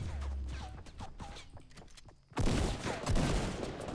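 Rapid bursts of gunfire in the video game Fortnite crackle loudly after a brief lull, dense and continuous like a firefight, preceded by softer clicks and scattered noises.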